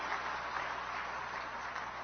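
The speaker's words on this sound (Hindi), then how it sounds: "एक बार जोरदार तालियों से बता दो कि 370 तोड़ने की खुशी हरियाणा के लोगों को कितनी है" Steady, dense clapping from a large crowd at an outdoor political rally in Sirsa, Haryana, sustained at an even level for the whole stretch with no voices standing out.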